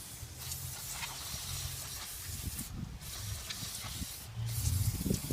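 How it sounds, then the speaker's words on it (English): An aerosol can of brake cleaner sprays in a series of steady hissing bursts, close by, with short pauses between them. "This is brake cleaner, obviously."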